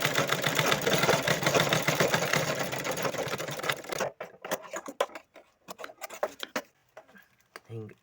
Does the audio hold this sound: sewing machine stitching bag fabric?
yes